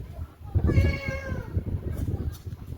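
A human voice imitates a cat laughing, producing a drawn-out meow-like tone that rises and wavers, with light background noise and some murmuring afterward.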